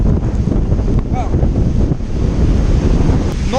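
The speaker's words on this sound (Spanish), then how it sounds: "Quiero que se escuchen también el viento" Strong typhoon wind roars through an empty street, with loud, continuous buffeting against the microphone and a wash like surf, and no talking.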